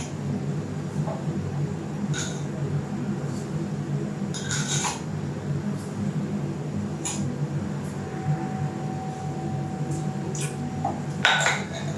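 A spoon stirs a sugared turkey jerky marinade in a bowl, making scattered light clinks and scraping rubs against the bowl over a steady low background hum.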